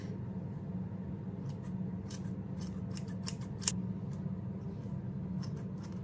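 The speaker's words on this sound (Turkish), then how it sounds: "Biz de bir ara makas atalım." Hair-cutting scissors snip repeatedly near the mic, a burst of sharp metallic clicks with one louder cut, heard over a steady low background hum and no talking.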